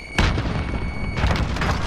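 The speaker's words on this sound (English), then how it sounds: "Grenade out!" Semtex grenade explosion in Call of Duty: Warzone, a loud sustained boom that rumbles for about two seconds with no talk over it.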